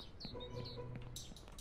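Pigeons in the video game Only Up give off faint, brief chirping calls over a steady background of game ambience.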